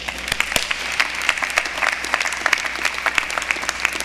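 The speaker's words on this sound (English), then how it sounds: "Now, that is worth something applauding." An audience at the University of the Virgin Islands 2025 commencement ceremony on St. Thomas applauds, a dense continuous clatter of many hands with sharp individual claps popping out, steady and fairly loud.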